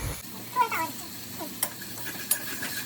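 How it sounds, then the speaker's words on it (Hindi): Sautéed tomatoes seasoned with salt being stirred in a pan, a few soft scraping stirs and light clinks over a faint low sizzle, quiet and close. "एंड उसे भी मिक्स कर लेंगे."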